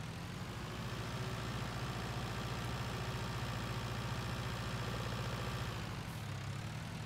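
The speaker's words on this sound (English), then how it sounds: "So we're going to just pull this tractor up here, off to the side." A tractor engine idles in the farming video game My Little Farm, a steady low rumbling hum that holds constant and fairly quiet throughout, with a slight dip near the end.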